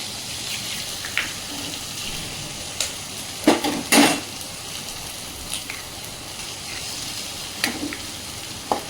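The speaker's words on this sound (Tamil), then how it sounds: "நம்ம 2 முட்டை உடச்சி ஊற்றிக்கலாம்." Two eggs cracked into a pan and frying with tomato and cabbage for egg rice, giving a steady low sizzle with a few sharper pops and scraping bursts, no talking.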